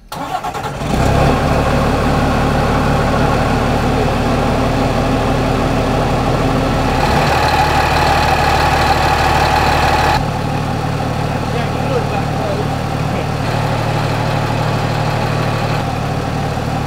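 A swamp logging machine's engine, freshly fitted with a replacement alternator, rumbles steadily at idle for the whole stretch, loud and close, with a brief rise in revs partway through and no talking.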